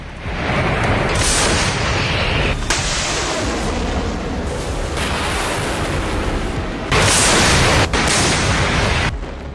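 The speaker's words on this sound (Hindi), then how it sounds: "तोपें," Heavy, continuous rumbling blasts of Indian Army artillery cannon fire during a military exercise in Arunachal Pradesh, loud and dense throughout with sharper booming bursts near the start and toward the end, no voices.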